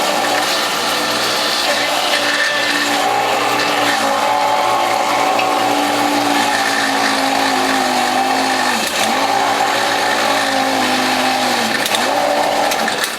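A WHF juicer motor grinding cucumber and dandelion hums loud and steady at close range, its pitch dipping and straining under load several times as the produce is pushed through.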